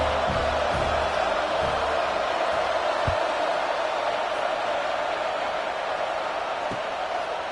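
Steady roar of a stadium crowd in a college football video game, a broad wash of noise that holds at an even level throughout with a few faint low thumps and no standout cheers.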